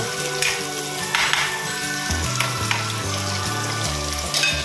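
Garlic sizzles and crackles steadily in a hot pan while escabeche tilapia is being cooked, a continuous frying hiss with soft bursts throughout, over low tonal background music.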